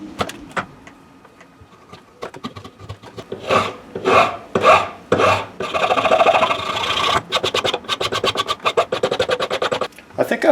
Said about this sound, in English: I'm gonna probably use a chisel and a rasp and some sandpaper and get this profile more accurate